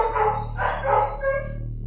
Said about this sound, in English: It sounds like dogs barking.